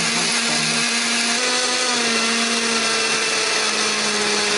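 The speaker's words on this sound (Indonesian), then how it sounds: "Di sini aku menghaluskannya menggunakan blender." An electric blender grinds spice paste for a chicken dish, a loud, steady high-pitched whirring motor running continuously with no break.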